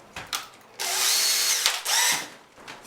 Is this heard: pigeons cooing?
no